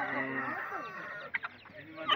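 Domestic chickens at a poultry market cluck in a dense, steady flock chatter, with a few sharper calls near the end and a faint voice underneath.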